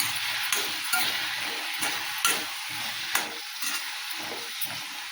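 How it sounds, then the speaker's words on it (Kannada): Oil sizzles steadily in an iron kadai while bitter gourd is fried, a close, constant hiss broken by regular metallic clinks as a spoon stirs against the pan. "ಎಣ್ಣೆ ಹಾಕೋತೀನಿ ರೀ, ಹುರಿತೀನಿ ನೋಡ್ರಿ"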